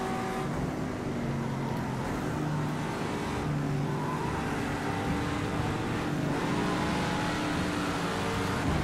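Race car engines in Project CARS 2 at Silverstone during a six-hour race with a Corvette close behind, a steady loud engine drone with shifting pitch that holds throughout.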